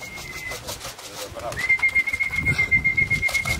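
Racing pigeons coming in to land at a loft during a pigeon race return, with soft cooing and calls mixed with wingbeats and background voices, a thin steady whistle tone running through much of it.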